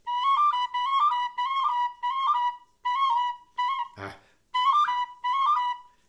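A tin whistle plays short repeated phrases of John Ryan's (Armagh) Polka, clear and close. There are brief breaks between phrases and a single sharp knock or breath noise partway through.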